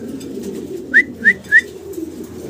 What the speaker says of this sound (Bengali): লাহোরি কবুতর।